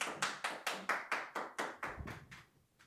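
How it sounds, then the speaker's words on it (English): Slow, evenly spaced hand claps, about a dozen in a steady rhythm, ring out close by for Chef Tim and grow softer toward the end. "Give me here a clap for Chef Tim"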